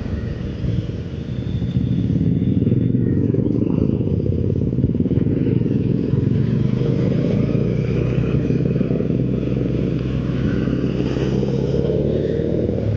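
A motorcycle rides along an open road on a trip from Mumbai to Shirdi, its engine a steady, close, droning rumble after a brief quieter start, with no talking.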